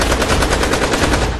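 A dense, loud burst of rapid gunfire from guns and revolvers crackles continuously, the shots blurring into a steady rattling stream.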